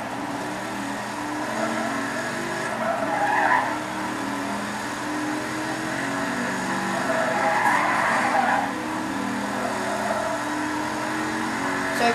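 A car drives steadily in a racing video game, its engine a constant drone. Tyre skids swell twice, with brief squealing bursts around a few seconds in and again near the eighth second.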